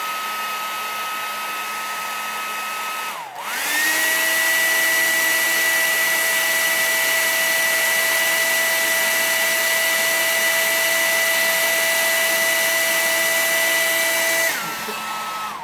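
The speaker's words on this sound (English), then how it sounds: "Here's our hair dryer. Put it on high or low. We'll do low to begin with." A hair dryer whirs on a low setting, a steady airy whine that holds for about eleven seconds after switching on, then cuts off.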